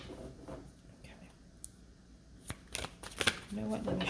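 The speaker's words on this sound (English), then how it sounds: "Let me shuffle these a little better." Tarot cards shuffled by hand close to the mic, soft papery riffles and flutters building toward the end, with quiet whispery speech and faint scratchy rustles mixed in.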